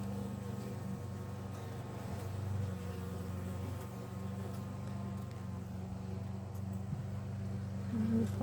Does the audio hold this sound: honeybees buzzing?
yes